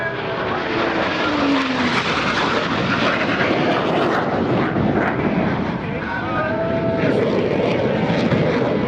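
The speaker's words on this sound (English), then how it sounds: "Pilots perform an individual brake turn and exit the flight line in a separate direction." US Navy Blue Angels jets at the 2018 NAS Oceana airshow, a loud continuous engine roar from jets passing fairly near, with an announcer talking over it throughout.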